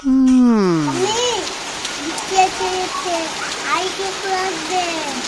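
Steady rain patters in the background under a child's sing-song talking, a soft continuous hiss of drops on surfaces.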